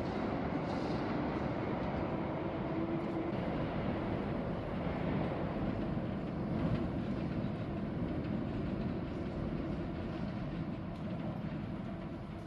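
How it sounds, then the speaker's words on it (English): A train rumbles steadily past a railway platform, a dense continuous roar of wheels and carriages that stays loud and even throughout, with no voices. "And on the very same train platform."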